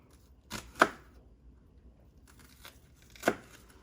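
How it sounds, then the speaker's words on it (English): A knife dicing an onion on a cutting board: two distinct crisp cuts, about two and a half seconds apart, close and fairly quiet in an otherwise still room. "Then we're going to cut through the onion so that we're making dices."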